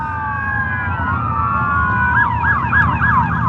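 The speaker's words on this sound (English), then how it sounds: "That's a fire truck." A fire truck siren sweeps in long slow wails, then switches to quick warbling yelps, loud and close over road noise.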